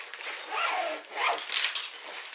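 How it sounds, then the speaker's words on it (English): Main compartment zipper on a Shimoda 40L camera backpack being run around the bag, a few rasping pulls of moderate loudness, close up with no talking. "So this is your main compartment here, and it zips around."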